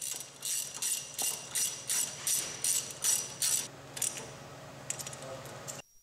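Rhythmic ratchet clicking as a hand ratchet snugs cap screws on a Jet Edge iP60-50 waterjet pump during a high-pressure seal change, about a dozen close, crisp bursts of pawl clatter in steady succession, then a few lighter clicks before stopping.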